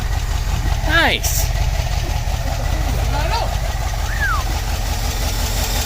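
An old square body truck engine idles with a steady, low, throbbing rumble that runs through the whole stretch, while people talk and exclaim close by over it.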